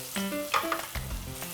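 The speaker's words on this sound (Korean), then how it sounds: "이쪽 동서남북을 왔다 갔다 하면은 금방 이렇게 한 번씩 깊이 있게끔 튀길 수 있고요." Batter-coated meat fries in hot oil with a crackling sizzle, flaring in short bursts as the pieces are moved around the pan, close and clear with no voices.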